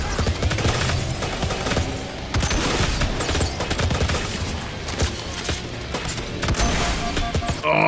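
Gunfire in the Halo Doom Evolved mod for Doom comes as dense bursts of rapid shots, loud and close, with brief gaps between volleys.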